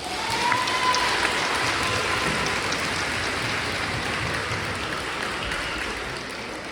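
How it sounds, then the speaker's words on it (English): Steady crowd applause at a sixth grade honors day, a dense wash of many hands clapping at once that holds at an even level throughout, with no talking over it. "Let's give them another round of applause"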